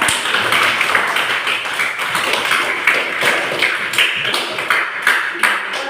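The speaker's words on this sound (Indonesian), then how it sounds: "beri tepuk tangan untuk kelompok." A classroom group applauding after a student presentation in an Indonesian school lesson; brisk, scattered clapping from several people, fairly loud and steady for the whole stretch with no talking.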